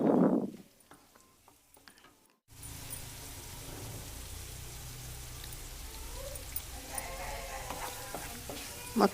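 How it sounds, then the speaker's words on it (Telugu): Beetroot and fresh curry leaves frying in a pan, a loud sizzle beginning after a short quiet gap, with a steady crackle and occasional stirring scrapes, no talk. "మొత్తం అంతా బాగా కలపాలి"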